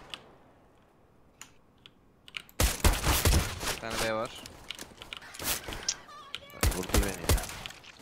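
Counter-Strike: Global Offensive gunfire during a competitive match: a quiet opening gives way to sharp bursts of rapid shots and footsteps, with several people talking over the action.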